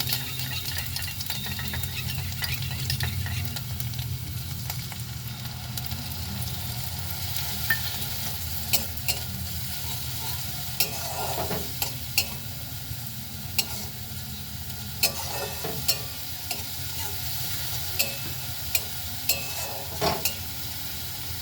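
Spice paste frying in a pan while being stirred, a steady sizzle with repeated sharp scrapes and clinks of a spoon against the pan, growing busier toward the end, no voices.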